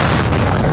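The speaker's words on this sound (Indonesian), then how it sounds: "Itu sebuah ledakan yang berasal dari drone laut Ukraina terdengar sangat keras di tengah laporan" An explosion from a Ukrainian sea drone at the port of Constanța comes through as a loud, sustained rumbling boom that fills the whole moment with dense low roar.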